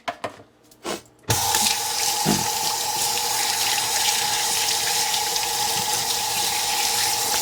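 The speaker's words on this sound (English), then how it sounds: "let me wash my hands" A kitchen tap turns on and runs steadily while hands are washed under the water, a close, continuous splashing rush after a few soft handling sounds.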